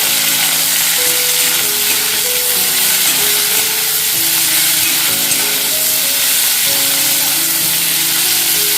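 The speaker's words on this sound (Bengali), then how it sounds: "নুন দিয়ে হালকা ফ্রাই করে নেবো" Vegetables with salt sizzle in a pan, a loud, steady, dense frying hiss with faint tonal hums beneath, carrying on evenly without talk.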